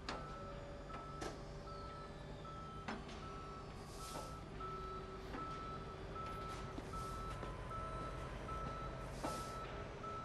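Tow truck in a police video game giving steady repeated reversing beeps, a regular electronic tone pulsing at moderate volume against low engine rumble and occasional clicks.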